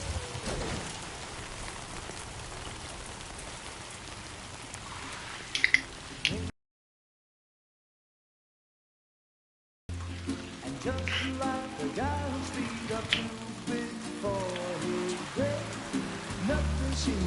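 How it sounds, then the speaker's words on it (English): Rain falling in the video game Death Stranding 2, a dense patter of drops on surfaces with scattered louder drips, broken by a brief silent gap before the rainfall resumes with heavier, more textured splashing. "raindrops are falling on my head, they keep falling"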